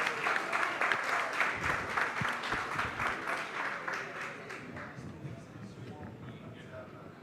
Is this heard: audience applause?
yes